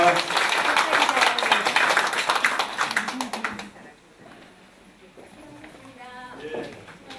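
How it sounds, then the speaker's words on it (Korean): An audience applauds at the close of a speech, the dense clapping loud and steady for about four seconds before it thins out, with quieter talk following. "앞으로 나는 만보기를 딸고 매일 만보를 걷겠다는 약속을 하시는 분만 박수를 쳐주시기 바랍니다"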